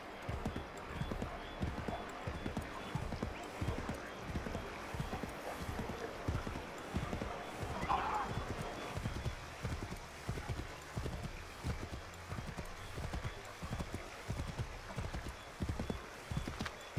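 Rapid, rhythmic hoofbeats of a galloping horse in the video game Assassin's Creed III Remastered pound continuously, with a brief whinny partway through and faint background ambience.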